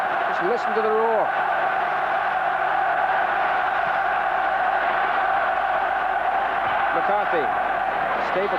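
Large crowd roaring at a 1989 World Cup qualifier football match between Ireland and Spain, a steady dense wash of noise filling the whole stretch, with a commentator's voice breaking through near the start and again near the end.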